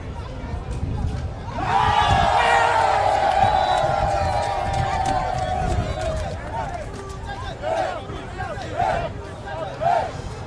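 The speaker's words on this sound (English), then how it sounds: "Team Imo having their fans scream really loud and showing them their dominance even on the court" A crowd of fans at a court match during the Ogun 2024 Gateway Games athletics event roars and screams loudly for several seconds, then settles into excited chatter and scattered shouts.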